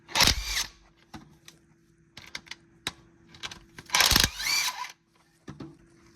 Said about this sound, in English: grab your 16 millimeter socket and break these two bolts loose